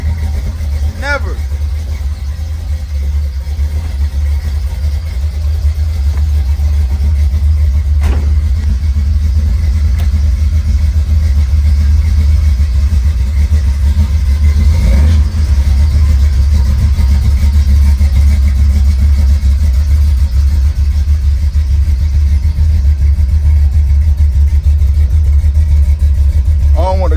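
A car engine with a faulty water pump idles after a cold start with a steady low rumble throughout, close by, with faint occasional clicks and no talking.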